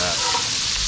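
Sausage sizzling and frying loudly in a cast iron pot over a campfire, a dense steady crackling hiss heard up close for under a second.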